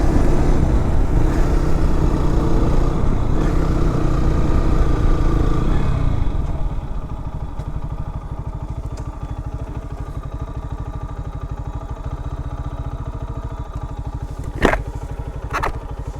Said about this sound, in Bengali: এই আমরা বাইক রাইড করবো দেখি এখানে